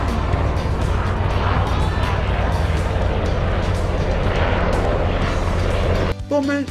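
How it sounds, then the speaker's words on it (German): A loud, low rumbling roar of a helicopter passing low overhead in Los Angeles, steady and close, before cutting off abruptly near the end. "Hubschrauber. Tief."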